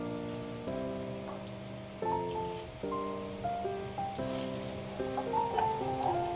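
Shrimp shells fry in hot oil with a steady, rain-like sizzle and crackle that runs throughout, partly masked by louder melodic background music.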